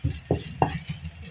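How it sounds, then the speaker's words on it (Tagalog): Shrimp going into a cooking pot of sautéed mung beans with bitter gourd: a few quick clinks and soft thuds of utensil against pot, brief and close. "At lalagyan po natin ng hipon."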